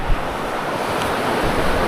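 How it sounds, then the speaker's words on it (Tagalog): Ocean waves wash onto a fine-sand beach in Palawan, a continuous loud surf roar with wind buffeting the microphone. "ang ganda ng alon nga naman, no?"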